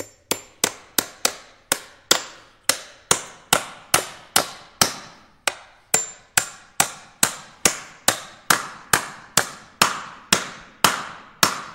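A hammer drives nails into 2x4 wooden boards in a steady run of about two dozen sharp, close blows, each ringing briefly before the next strike lands.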